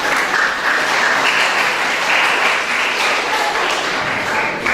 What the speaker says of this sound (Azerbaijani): elə sizdən alqışlarınızla Terminator ləqəbli Cavid'i dəvət edirəm